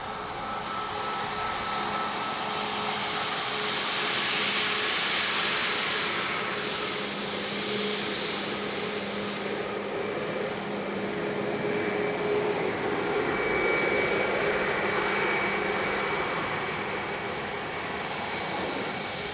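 A Ryanair jet arriving at Dublin Airport from Manchester gives a broad, steady engine roar that swells and eases across the whole stretch, heard from a distance with faint whining tones and no talking.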